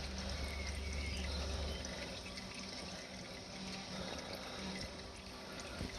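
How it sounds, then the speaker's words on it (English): Engine oil from an Alfa Romeo 166 V6 drains into a drain pan as a steady, continuous liquid pour, trickling and splashing evenly at close range with no voices. "I'll leave the oil draining for a bit."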